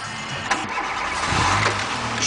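A 1.4-litre VW Polo Classic engine cranks and fires, then settles into a steady, fairly loud idle close by, with no talking over it.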